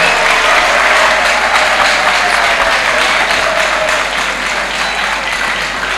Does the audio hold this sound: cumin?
no